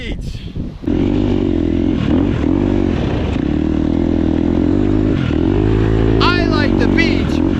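A Husqvarna 250 motorcycle idles and runs on a beach in the Philippines, a loud, steady engine drone close by that starts after a short rustle and carries on with slight revving wobbles. Someone is talking over the engine.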